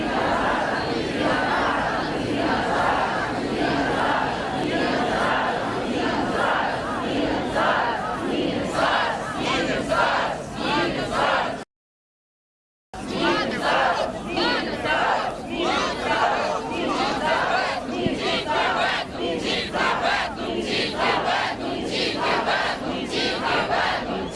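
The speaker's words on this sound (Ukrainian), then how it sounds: "вигукують змінимось або помремо руки геть від набу" A large street protest crowd in Lviv chants slogans in loud, steady rhythmic unison, continuous and dense throughout with a brief cut partway.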